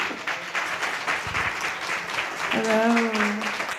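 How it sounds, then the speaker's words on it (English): Audience applause at a gaming industry conference talk, a steady wash of clapping from a crowd for the full few seconds, with a voice briefly audible over it near the end. "Everyone give her a round of applause."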